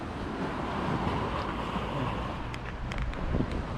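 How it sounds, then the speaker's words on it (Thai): Small sea waves wash against the shore at Laem Thaen on an early-morning outing. They make a soft, continuous surf wash under steady wind buffeting the microphone, with a few faint clicks and no speech. "น้ำน้ำสวยเลยครับทุกคนครับ คลื่นเล็กน้อยนะครับผม มีคลื่นเล็กน้อย"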